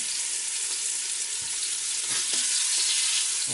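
Pork chops sizzle steadily in a pressure cooker on its sauté setting, a dense continuous fry with a few soft clinks and shifts from handling partway through.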